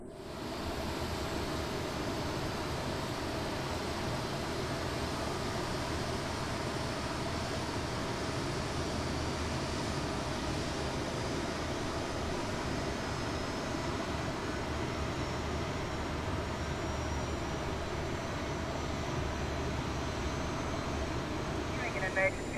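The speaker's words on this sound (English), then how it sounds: "it looks like we have a good engine start on the right engine" A simulated CRJ jet's right engine spooling up during start in Microsoft Flight Simulator, a steady, dense whooshing roar that holds evenly throughout with no pauses.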